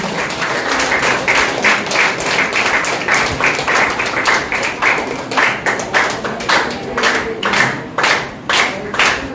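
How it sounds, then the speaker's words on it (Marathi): An audience at a school student felicitation ceremony claps loudly and steadily for the honoured guests, the dense applause breaking into rhythmic group clapping toward the end, with no voices over it. "जोरदार टाळ्या आजच्या या मान्यवरांसाठी"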